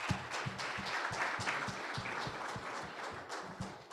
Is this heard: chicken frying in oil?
no